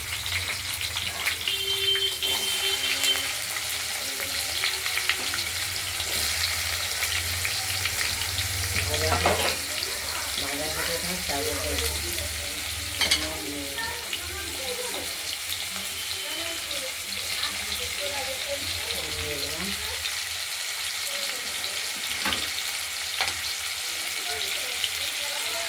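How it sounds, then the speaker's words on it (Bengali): Potatoes frying in a pan give a dense, continuous crackling sizzle that stays close and fairly loud, with occasional stirring and faint kitchen noises behind. "আলুগুলো ভেজে নেবো লাল করে।"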